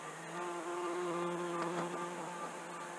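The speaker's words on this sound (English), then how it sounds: "And right on cue, here's a bee." A bee buzzes near a comfrey plant in an allotment garden on a hot sunny day, a steady droning hum that swells slightly and holds close by without any talking.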